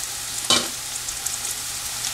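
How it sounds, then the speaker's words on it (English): Crushed ginger and garlic fry in a hot pan with a steady soft sizzle and one brief sharper crackle as they hit the oil, heard at close range with no voices. "Now I am going to add our crushed ginger and garlic."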